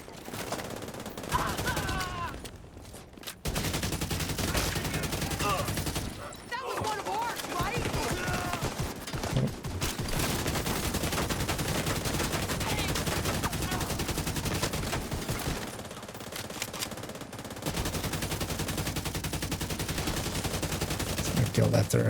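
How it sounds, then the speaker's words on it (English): Video game gunfire, dense and loud, runs almost nonstop through a busy in-game fight, with brief pauses and a possible voice mixed in among the shots. "I'm gonna actually shoot him in the shield"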